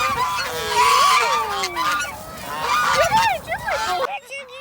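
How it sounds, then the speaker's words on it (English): Heritage geese gathered on and beside a farm road, honking loudly and close by in overlapping calls, with a brief bit of talk toward the end. "Amazing, they're totally heritage geese."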